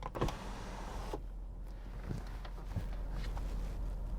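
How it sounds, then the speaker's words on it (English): The power sunroof of a 2012 Mercedes-Benz CLS63 AMG tilts open a crack with a soft, steady electric motor hum inside the quiet cabin, preceded by a few faint clicks and taps, with no talking. "If you push up on the button, it opens the sunroof just a crack so you can get some air movement."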